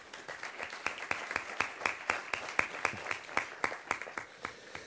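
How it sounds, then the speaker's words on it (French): Applause for Cyril Le Picard at the closing session of a national biomass energy conference, 2013: a modest audience clapping with distinct, fairly sparse individual claps in a steady patter, moderately close, no talk over it. "Je pense qu'il a droit, lui aussi, à quelques applaudissements."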